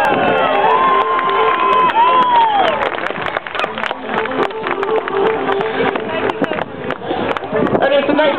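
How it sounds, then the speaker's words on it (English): A crowd at an artillery regiment parachute night drop claps and cheers, with voices, whistles and shouting mixed into steady outdoor applause, while a voice talks over it. "so a big round of applause."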